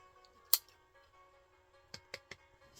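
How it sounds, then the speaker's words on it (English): Scissors snip a small piece of fabric for a potholder loop: one sharp close cut, then three quicker snips after a pause, in a quiet room. "I'm just going to cut myself a 3-inch piece of fabric."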